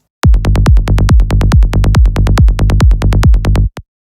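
A psytrance kick and bass pattern shaped by an LFO tool groove, with steady, punchy kicks on every beat and a rolling bass filling the gaps between them. The loop runs loud and alone for about three and a half seconds, then stops.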